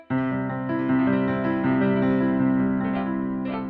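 At a quicker tempo, a repeating piano figure rolls along with the sustain pedal held, its notes overlapping into one continuous, resonant, fairly loud wash of sound.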